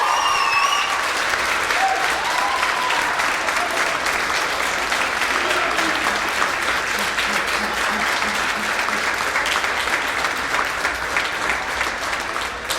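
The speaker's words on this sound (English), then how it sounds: "So can we please give these people a huge round of applause?" A huge, steady round of applause from a crowd at student union election results, dense continuous clapping with a few brief cheers early on, fading slightly at the end.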